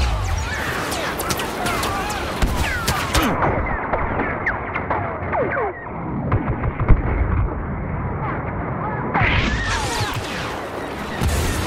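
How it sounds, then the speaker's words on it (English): Airstrike explosions in Star Wars Battlefront rumble and crack in a dense, continuous barrage, loud and close, with bursts of blasts and debris layered throughout. "Airstrike incoming."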